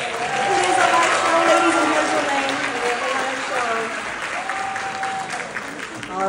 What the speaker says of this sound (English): Let's feel free to give them a nice round of applause.